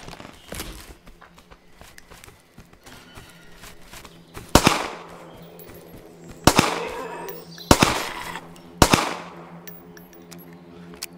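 Shots from a .45 pistol in the survival game Survive The Nights: about five sharp, loud reports, one early then four in irregular succession, each with a short ringing tail over a quiet hum.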